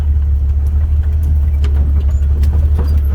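Heavy low rumble of a 4-wheel-drive truck crawling along a primitive dirt road, steady and close, with scattered bumps and rattles from the rough surface.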